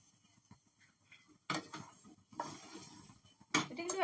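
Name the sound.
stirring dry fruits in a frying pan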